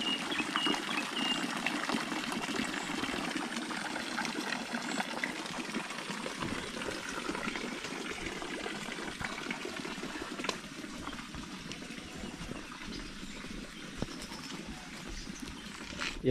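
Water is drained from a tilapia pond, a steady trickling and gurgling flow that continues unbroken at moderate volume, with faint outdoor background around it.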